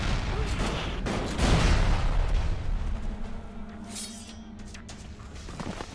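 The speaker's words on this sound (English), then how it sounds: "let me lighten up your dark side with some grenades" Grenades burst in a combat fight in the video game ELEX II, a loud cluster of booming blasts up front that rumble and fade over several seconds.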